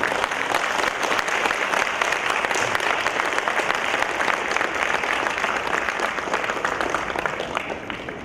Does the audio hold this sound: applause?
yes